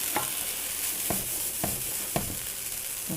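Rice toasting in a pan with garlic and onion gives off a steady, close sizzle, broken by a few sharp scraping stirs of a utensil at roughly half-second intervals.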